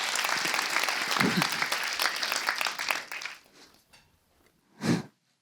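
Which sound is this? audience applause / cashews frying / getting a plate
audience applause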